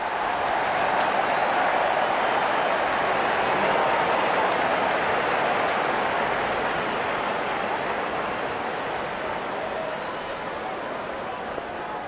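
A steady, dense roar of crowd cheering and applause fills a cricket stadium in the Real Cricket 24 video game as the openers walk out for a T20 World Cup warm-up match between India and Nepal, continuous and loud throughout.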